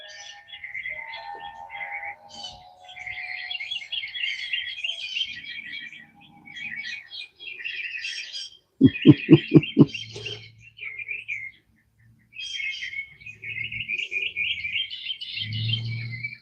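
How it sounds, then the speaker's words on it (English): Birds sing and chirp outdoors at dawn, bright overlapping tweets and trills coming in bursts, with a short run of low rhythmic pulses partway through and a few quiet pauses. "listen to the birds"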